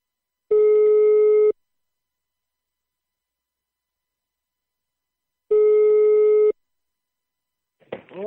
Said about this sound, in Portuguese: vou ligar pra Regina.